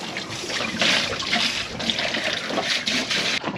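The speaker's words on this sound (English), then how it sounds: "It's our first time using that stern shower." Water runs steadily from a boat's stern shower, a close continuous splashing hiss with slight swells in level and no talking.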